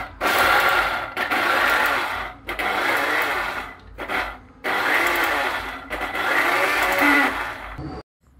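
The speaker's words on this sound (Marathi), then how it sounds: "अशा पद्धतीने पल्स मोडवर मिक्सर चालू बंद करत आपल्याला ही डाळ भरडसर अशी वाटून घ्यायची आहे।" Mixer grinder coarsely grinding soaked lentils with green chillies and ginger on pulse mode, loud whirring bursts cut by short pauses, about five pulses in a row, close and alone.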